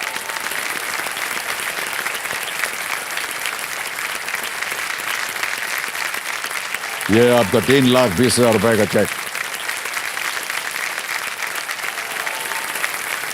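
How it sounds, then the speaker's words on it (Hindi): A studio audience on a quiz show claps steadily throughout, a continuous wash of applause, while someone speaks briefly over it midway. "तालियां बजती रहें इनके लिए।"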